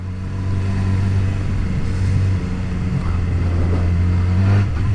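A motorcycle engine carrying a rider and pillion passenger drones loudly and close at steady throttle, with a rising rumble near the end as the rider opens it up a bit.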